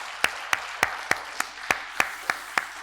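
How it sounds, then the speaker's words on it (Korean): A church congregation claps in slow, even unison during a late-night New Year special prayer meeting, about ten sharp, evenly spaced claps ringing out with quiet room noise between them. "다시 한번 하나님께 영광의 박수 올려드리길 소원합니다"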